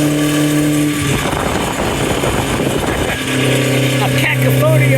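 A Lancia Fulvia HF Rally Speedster driving with its engine note humming steadily, swelling into a rougher, noisier stretch of road and wind before settling back to a held tone, fairly loud and close.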